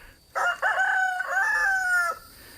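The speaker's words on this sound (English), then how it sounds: "But here are our backyard chickens." A backyard rooster gives one clear, close crow lasting about two seconds, rising then holding steady before cutting off, with only faint background hush around it.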